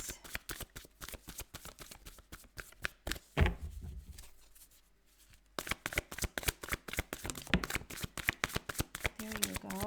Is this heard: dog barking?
no